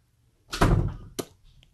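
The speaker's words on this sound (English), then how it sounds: "Okay, we'll close the door back." A door swings shut indoors with a loud, close thunk, followed a moment later by a sharper knock as it settles, then quiet.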